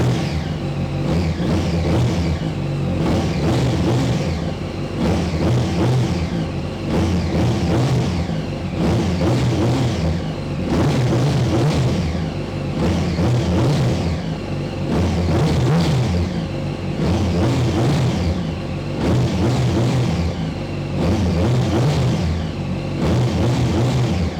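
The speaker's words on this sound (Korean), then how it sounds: "순정 머플러다 보니까 배기 사운드는 조용해요" A 2007 Yamaha YZF-R1 superbike with its stock muffler runs steadily near the microphone, a loud, even engine drone with gentle rhythmic swells in revs and a fairly subdued exhaust note, with no talking.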